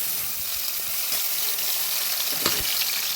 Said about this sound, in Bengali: সাদা তেলটা গরম হয়ে গেছে, এবার আমি এর মধ্যে যে আদা রসুন লঙ্কার পেস্টটা করেছিলাম সেটা দিয়ে দিলাম।